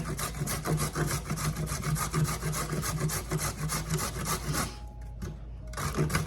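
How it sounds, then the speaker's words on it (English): A carrot is rubbed against the large holes of a metal grater in a home kitchen, producing continuous, steady rasping strokes up close that ease briefly before resuming. "I'm just going to grate this carrot"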